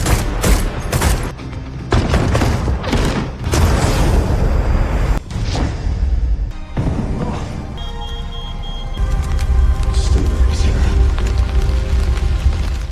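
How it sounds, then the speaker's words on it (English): Two gunmen open fire on a house in a film scene, heavy bursts of gunfire and booming impacts running dense and loud throughout, mixed with dramatic score and chaotic noise. "the 2 gunmen open fire on the house"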